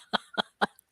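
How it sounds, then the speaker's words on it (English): Three quick, close coughs in a short regular burst, each a sharp rough puff of air, with no talking around them. "Cough, sore throat."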